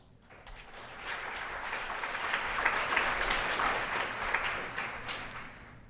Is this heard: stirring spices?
no